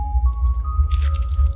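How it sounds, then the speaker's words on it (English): Liquid pours and drips in the indie horror game Lucius II, giving wet, squishy drips over a low steady hum. "Pouring some liquid."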